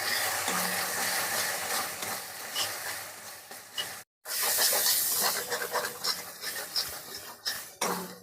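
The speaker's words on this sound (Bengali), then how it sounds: "ভালোভাবে নাড়িয়ে চালিয়ে নেব।" Spices being stirred in a hot oiled pan while cooking Bengali mustard pabda fish, giving a steady loud sizzle and scraping hiss throughout with a brief break midway.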